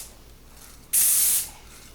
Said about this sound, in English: Nice quick coat of Krylon gray.